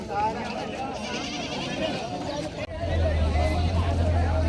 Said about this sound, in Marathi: गावरान जातीचे शेळ्या आहेत मित्रांनो